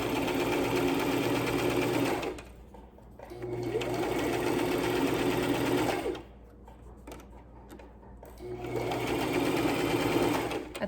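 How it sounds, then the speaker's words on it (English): A sewing machine stitches through many layers of fabric for a lanyard, running loud and close in long continuous bursts with a steady rapid hum, pausing briefly twice between runs. "your machine is going through a lot of layers of fabric now, so it might sound a little clunky"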